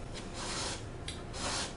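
Fine-grit sandpaper rubs back and forth across a lacquered wooden 1936 Philco 610 radio cabinet in rhythmic strokes, a close, dry rasping hiss with no talking.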